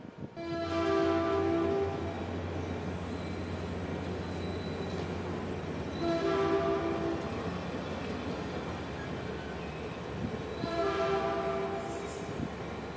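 Early-morning train at Menlo Park station in California, a steady rumbling rail roar with three long horn blasts spaced several seconds apart, loud and fairly near.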